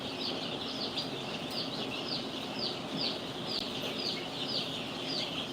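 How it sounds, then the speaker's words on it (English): Newly hatched chicks, turkey and duck, peep in a steady chorus of rapid high cheeps over a constant hum, close and fairly loud, with no talking. "These are turkeys. They shouldn't be hatching yet."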